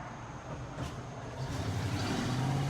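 A car passes by on the road outside, a rising engine and tyre rumble that swells toward the end.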